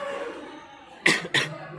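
Two sharp, loud coughs close together from a man with a sore throat, breaking a quiet room tone near the end.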